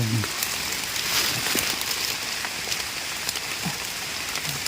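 Rain falls steadily through a forest in Mae On, Chiang Mai, during mushroom picking, a dense, even patter on leaves and ground with scattered louder drops, moderately loud and with no one speaking.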